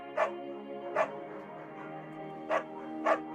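A beagle in the game Firewatch gives four short barks, two close together, a pause, then two more, clear and fairly near over a steady background hum.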